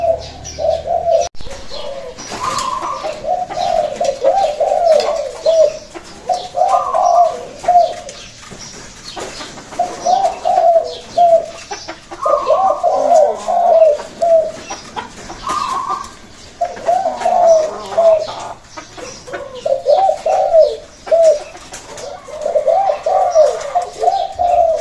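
Repeated soft cooing calls of a dove, coming in regular phrases of low, throaty notes, fairly close, with faint background noise.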